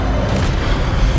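Fire spell cast in Hogwarts Legacy during a fight in the Forbidden Forest, a dense, continuous low booming roar with no clear breaks, loud and close.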